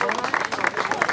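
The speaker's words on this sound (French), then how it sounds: "on peut l'applaudir bien fort." Applause at an enduro motorcycle event in Brionne, a brief burst of crowd clapping with a voice talking over it.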